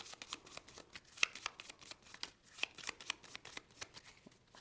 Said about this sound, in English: There isn't one, so we're going to shuffle those up.